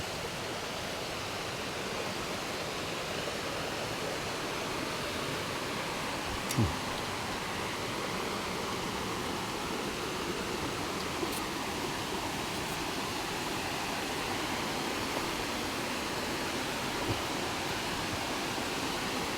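Rushing water roars in a constant, even wash of broadband noise from a nearby waterfall, Tat Kom waterfall in Kalasin, Thailand, pouring steadily, with a few faint clicks.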